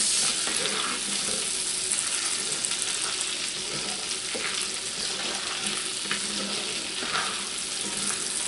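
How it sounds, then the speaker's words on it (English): Butter sizzles steadily in a pan holding seasoned drippings, a continuous bright frying hiss with faint scraping and stirring, close and fairly loud with no talking. "We're just going to glaze this pan with butter."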